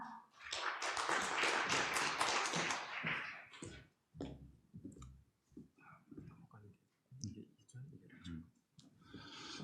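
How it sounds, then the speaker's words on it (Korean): Audience applause at a maritime and fisheries outlook conference session, a dense burst of clapping for about four seconds that fades into scattered claps, followed by a speaker talking. "큰 박수 부탁드리겠습니다"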